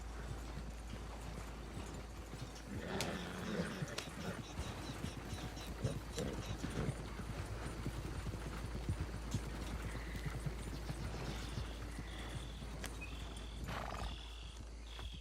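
Horses trotting in the video game Red Dead Redemption 2, a steady clip-clop of hooves running throughout over a low rumbling background, with a brief burst of louder activity near the start.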